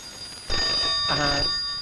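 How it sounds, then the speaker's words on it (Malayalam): A telephone bell rings in two short bright trilling bursts, close and steady, over a faint room background with no talking. "ഫോൺ ബെല്ലടിക്കുന്നത് നിനക്ക് കേട്ടൂടെ എന്റെ കുട്ടി?"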